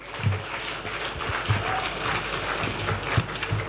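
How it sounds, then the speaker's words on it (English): Audience applause fills a Ugandan government ceremony unveiling the UTCL brand, a steady wash of clapping from a crowd that stays even and continuous throughout. "let's give a big round of applause to the Right Honorable Prime Minister"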